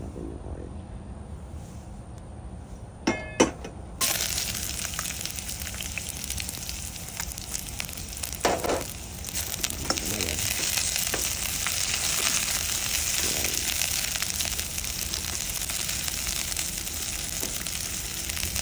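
Oil sizzles steadily in a Taiwan-made wok being seasoned, starting abruptly after a few soft knocks and holding a loud, continuous hiss with occasional crackles throughout.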